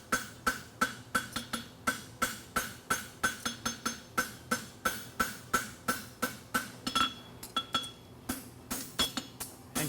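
Hammer strikes flattening a caulk-and-feather hind horseshoe on an anvil at a blacksmith competition: a steady run of rapid, close, ringing metallic blows, evenly spaced with brief pauses, without talk.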